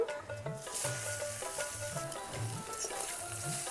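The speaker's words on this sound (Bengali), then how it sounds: "এবারে দিয়ে দিচ্ছি ভাপিয়ে রাখা শাকগুলো।" Steamed potato-leaf greens dropped into a pan of garlic fried reddish, giving a steady close sizzle with scraping and clattering, and no voices.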